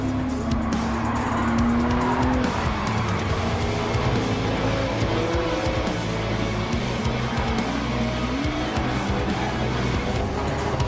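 Race cars in a racing game accelerate hard off the start line, engines roaring loudly and continuously with squealing, skidding tires layered over the dense mechanical din.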